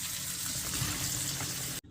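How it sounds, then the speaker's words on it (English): Boiled macaroni being strained, with water pouring and draining in a steady, close rush that cuts off abruptly at the end. "Now we strain and clean it."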